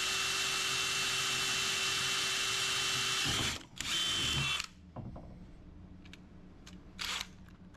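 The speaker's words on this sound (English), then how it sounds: "now that we've got our holes drilled, we're ready to mount our bracket system to the wall." A power drill bores holes into a wall for a shelf bracket, whining loud and steady for several seconds, pausing briefly, then running again before stopping, followed by a few faint clicks and a short final burst.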